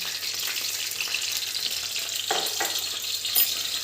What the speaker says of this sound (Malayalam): കുറച്ച് കടുകിട്ട് കടുക് പൊട്ടിക്കുന്നു.